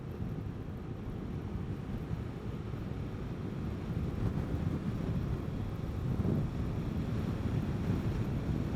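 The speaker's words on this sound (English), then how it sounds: "Man, the wind feels awesome." Wind buffeting the microphone while riding a Vespa GTS 300 scooter on a warm day, a steady low rumbling roar that swells louder midway, no speech.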